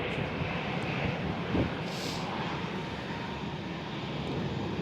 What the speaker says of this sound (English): 737 pushing back as well.